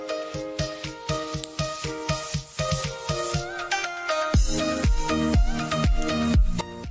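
A rapid series of sharp clicks from 3D-printed plastic parts of a rubber-band web shooter, then a run of bright ringing metallic tones with strong low thumps, steady and close.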